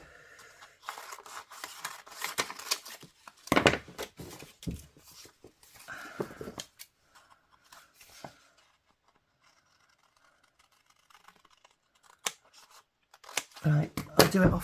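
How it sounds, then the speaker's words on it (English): Scissors snip closely around a paper envelope and white card in short bursts of crisp cutting and paper rustle, with quiet pauses between and someone talking at times. "I'm just going to fussy cut around this envelope."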